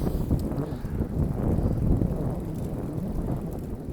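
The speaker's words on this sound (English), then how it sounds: "Noticing the headwind right now. I don't know if you can catch it in the audio." A gentle headwind rumbles across the microphone while someone rides a Brompton folding bicycle along the Avenue of the Giants. It is a continuous low, buffeting wind noise with soft gusty swells and no talking.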